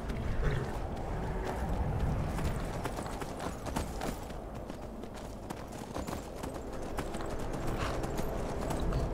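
Horse hooves clip-clop steadily in Skyrim, a continuous rhythmic patter of footfalls at moderate volume over the whole stretch, with a faint ambient wash underneath.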